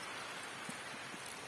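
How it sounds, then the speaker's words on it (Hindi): Rain falls steadily outside, a soft, even hiss with a few faint drips, continuous and moderately quiet with no voices. "बारिश लगी हुई है बाहर।"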